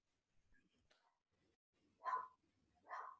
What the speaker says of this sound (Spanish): se escucha un perrito